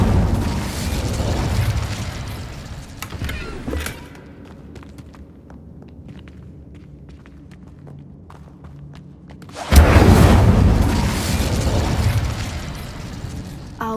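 An Incendio fire spell cast in Hogwarts Legacy bursts out as a loud, roaring whoosh of flame, fades to a low rumble, then flares again in a second heavy blast, with no talking.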